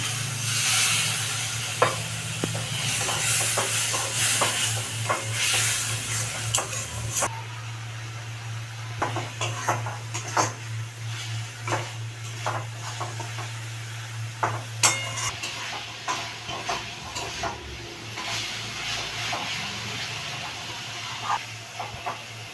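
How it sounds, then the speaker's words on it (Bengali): Masala sautés with a little water in a pan for a pointed gourd curry, giving a steady hiss broken by frequent stirring scrapes over a low constant hum. "আমি একটু সামান্য জল দিয়ে মশলাটা কষাচ্ছি।"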